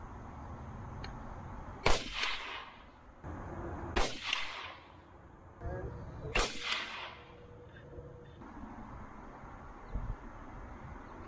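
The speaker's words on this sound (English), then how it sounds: "So I'm going to send some rounds downrange." Three sharp rifle shots ring out roughly two seconds apart while sighting in a scope at a range, each a loud crack with a brief decaying echo over quiet outdoor background.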